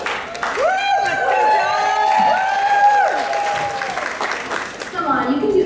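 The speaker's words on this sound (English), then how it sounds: "We want to hear you cheer all the way from the dressing rooms." An audience at a performance cheers and applauds, loud whoops and sustained shouts rising over continuous clapping, close and energetic, fading slightly toward the end.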